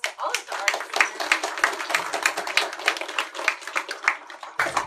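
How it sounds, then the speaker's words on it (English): Audience at a school district arts night in Manatee County applauding student artists, a dense run of close hand claps with scattered separate claps over the full stretch, ending abruptly. "Let's give a big round of applause to all of the artists."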